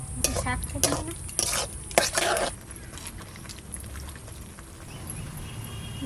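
Vegetables frying in a pan as poppy seeds go in, with stirring and scraping clatter early on, then a steady low sizzle underneath.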